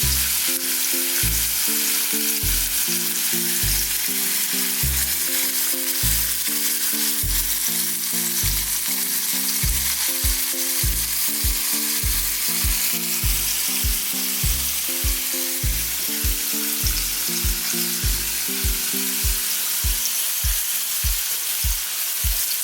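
Chicken pieces fry and sizzle in a pan, a steady loud crackle with rhythmic clacking from a metal tool tapping against the pan throughout.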